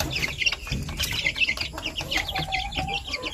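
Young stag chickens cluck and chirp in a busy, overlapping flurry close by, with short repeated calls running throughout and no talking.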